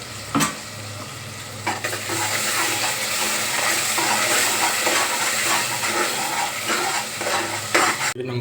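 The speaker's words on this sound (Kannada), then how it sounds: "ಈಗ ಒಗ್ಗರಣೆ ಕೊಟ್ಬಿಡೇನಿ" Spice tempering for spinach rice sizzles in a hot pan while being stirred, a loud steady frying hiss punctuated by metallic scrapes and clinks, heard up close without talk.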